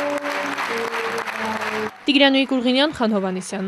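Standing ovation at a theatre premiere in Gyumri: dense clapping from an audience for about two seconds, then a voice speaks over the fading applause.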